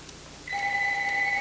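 Partway through, a telephone starts ringing indoors with a steady electronic tone. It holds moderately loud over quiet room noise with no talking.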